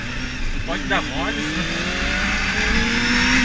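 Cars rush through night traffic in Rio de Janeiro, heard from a Honda Hornet motorcycle, with steady road and engine noise and a rising whine as one vehicle accelerates close by, while someone talks over it.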